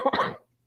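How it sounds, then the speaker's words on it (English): Coughing from a person, a short burst of rough coughs close up lasting under half a second, then a brief faint grunt after a pause. "Sorry about the coughing."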